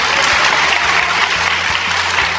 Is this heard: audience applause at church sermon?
yes